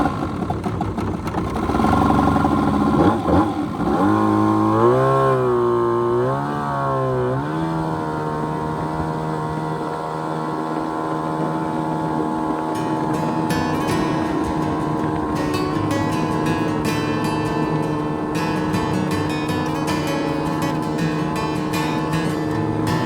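Steady engine drone of a 12-foot jet jon boat cruising on a river, with a rising and falling pitch early on before settling into an even, continuous hum.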